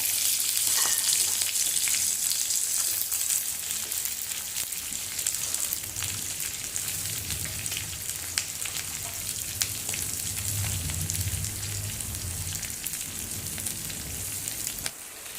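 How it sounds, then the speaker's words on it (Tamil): Onions sizzle continuously in hot oil with ginger and green chilies for a chana masala curry, a steady close frying crackle with no talking. "பச்சை மிளகாய் கொஞ்சம் வதங்கினதுக்கப்புறம் இந்த வெங்காயத்தை போடணும்."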